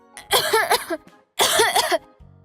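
Two loud, harsh coughing fits close by, each a rough burst of several hacks, separated by a short pause.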